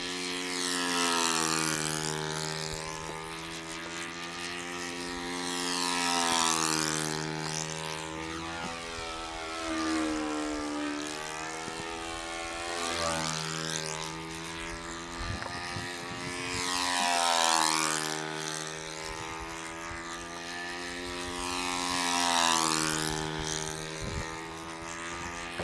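A four-stroke model airplane engine flying circuits at a model aviation meet: a buzzing, droning engine note that rises and falls in regular waves as the plane repeatedly passes near and then moves away.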